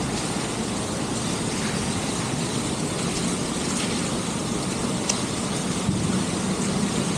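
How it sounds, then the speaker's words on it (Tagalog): Heavy rain pours down at a condo building, a steady broadband wash that holds evenly throughout, with a couple of faint brief knocks and no speech. "Grabe, lakas ng ulan dito."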